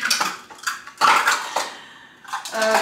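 Dishes are washed by hand in a home kitchen: pots, plates and cutlery clatter and clink in loud, irregular bursts, with scraping and sloshing between them.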